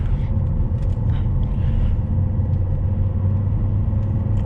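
Steady low diesel rumble from a 2009 Volvo S80 D5 R-Design Polestar while driving on a road, a continuous close, loud engine drone with road noise and no voices.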